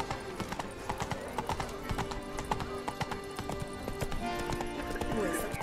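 A horse gallops in the Witcher 3 video game, its hooves clip-clopping in a rapid, steady rhythm under background music and game sounds, with a horse's whinny heard.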